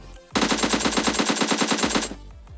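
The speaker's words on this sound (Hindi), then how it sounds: "अब भाई रोड पार से एक बंदा मुझे कतई सप्रेस्ड M4 मार रहा था" Suppressed M4 rifle firing a sustained automatic burst in PUBG, a rapid even string of muffled shots lasting under two seconds, loud and close.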